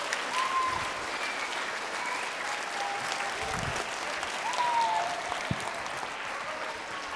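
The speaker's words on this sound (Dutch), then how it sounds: "dan wil ik een heel warm applaus voor professor Raya Keller" Warm applause from an audience of children and parents at a university lecture for kids, steady and sustained throughout, moderately loud with a few faint voices mixed in.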